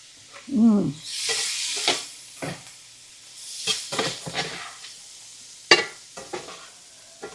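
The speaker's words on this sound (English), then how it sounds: "You just want to cook them right there in that bacon grease." Green beans frying in bacon grease in a pan, bursts of close sizzling and hissing as they are stirred, with scraping and a sharp clink between quieter moments.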